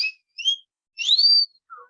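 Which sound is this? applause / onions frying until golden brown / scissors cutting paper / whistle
whistle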